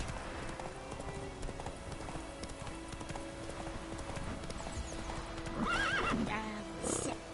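Horse hooves clip-clop steadily through a rainy outdoor scene in The Witcher 3, then a loud whinny rises near the end, with a second neigh following shortly after.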